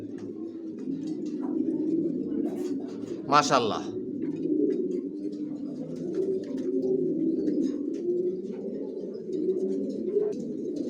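Racing pigeons coo steadily in a loft where a hen sits on eggs, a continuous low murmur of calls, with one brief burst of flapping and a short spoken word.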